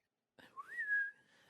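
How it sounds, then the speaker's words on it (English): A person whistles a single sliding tone that dips then rises and holds steady, clear and close with no talk over it. "and then you start whistling"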